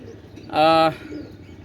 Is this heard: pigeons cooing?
yes